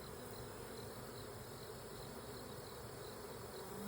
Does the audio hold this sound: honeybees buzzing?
yes